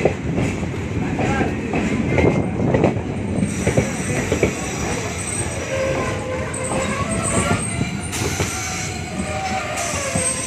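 A DEMU train with ICF coaches rolls along the rails with a steady clattering rumble, and brief metallic wheel squeals cut through now and then.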